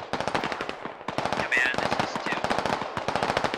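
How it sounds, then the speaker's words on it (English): Gunfire trades back and forth in the tactical shooter Squad, with dense, rapid bursts of automatic fire cracking nearly nonstop and loud throughout, and a faint voice occasionally beneath them. "There are some shots being exchanged here in the south."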